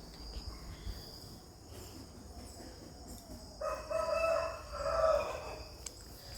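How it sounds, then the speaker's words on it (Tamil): A rooster crows at about 4:30 a.m. in the second half, a drawn-out call rising and falling, over steady background insect chirping and a quiet ambient hum. "சேவல் கரெக்டாக 4:30 சவுண்டு."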